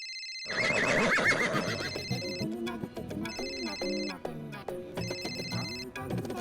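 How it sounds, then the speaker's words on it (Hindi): A faulty phone's call-waiting ring plays loudly as a repeating electronic ringtone pattern, with bursts of warbling tones separated by short gaps and no talk over it. "कॉल वेटिंग की रिंग भी जोर से सुनाई देती है।"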